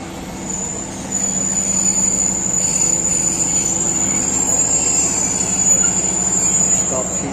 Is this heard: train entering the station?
yes